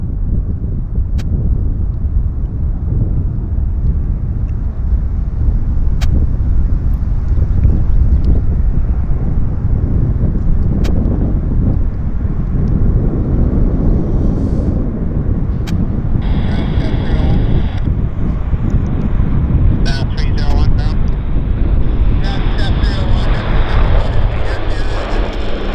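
A Q400 turboprop airliner rolls for takeoff at Vancouver airport, a steady broad engine roar building and holding with strong wind buffeting the microphone, without speech, heard from a spotting position.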